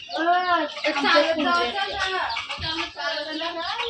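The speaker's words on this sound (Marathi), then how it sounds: "यो बघ कोंबड्या मारायला लागल्या बघ" Chickens squawk and cluck loudly in agitated bursts, close by, with people talking over the commotion.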